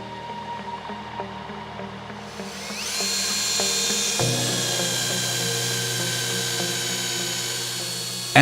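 A steady, loud high-pitched whine of a power drill boring into a Flender gear unit, running continuously, rising in pitch and intensity partway through, close by.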